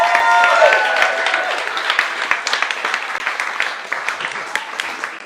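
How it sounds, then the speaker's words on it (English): Audience applause at a storytelling slam for a worst-date story, a dense burst of clapping at the start that thins into scattered claps over about five seconds. "Please put your hands together for Jonah Solheim."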